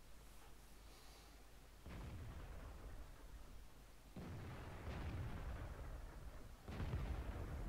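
Tank guns fire in the World of Tanks video game during a match with an ELC AMX light tank, three dull, fairly quiet booms spaced a few seconds apart over low rumbling.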